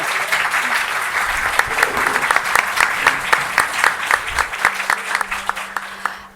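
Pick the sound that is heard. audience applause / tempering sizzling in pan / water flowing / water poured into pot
audience applause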